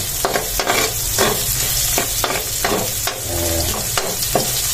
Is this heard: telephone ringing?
no